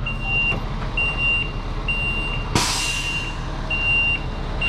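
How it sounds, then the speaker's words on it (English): A big truck reverses nearby with a steady series of high backup beeps repeating at an even pace over a low engine rumble, and a sharp hiss like an air-brake release cuts in partway through. "Oh, I hear a big truck."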